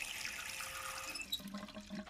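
A running indoor tap splashes over hands being washed in a sink, a brief, steady watery rush that shifts in tone near the end as the hands move under the stream.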